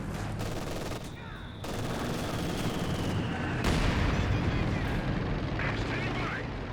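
Company of Heroes 2 battle: dense, rumbling bursts of mortar blasts and rattling gunfire, loud and continuous, with a sharp high whine cutting through midway.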